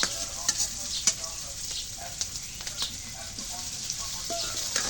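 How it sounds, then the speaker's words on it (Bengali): Rice dry-roasting in a pan gives a steady, close hiss with a light rattle of grains, and scattered spatula scrapes and stirring clicks come through it without talk. "চাল আমাদের কিছু ভেজে নিলে ভালো হয়"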